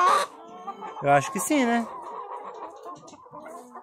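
Chickens cluck near the microphone in a backyard coop kept for egg production, with bursts of clucking and a crow-like call between short spoken remarks.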